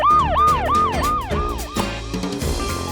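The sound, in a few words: police car siren in a children's puzzle game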